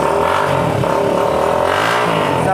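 A used Infinity 150 motorcycle, an 18 model, started with its self-starter at a bike market in Pakistan: the engine catches and runs with a steady, close, loud idle hum and a slight rise in revs, with no talking.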